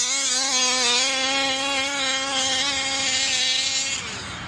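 A methanol-fuelled engine fitted with a ported Kraken Velsa throttle body holds a loud, steady, high-pitched rev for about four seconds, then drops off at the end.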